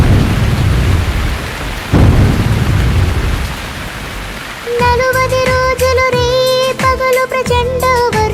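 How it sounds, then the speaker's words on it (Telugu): Heavy rain roars in a steady wash with a thunder crack in the middle, then a Telugu devotional song about Noah's flood starts up with music over the continuing downpour. "ప్రచండ వర్షం కురిసెను సర్వం నాశనమాయెను"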